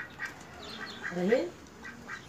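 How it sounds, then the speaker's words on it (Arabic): Large ducks quack a few times nearby, their calls fairly quiet, with a voice speaking briefly alongside. "انا لسه عندي بط، ماشي، بط كبير"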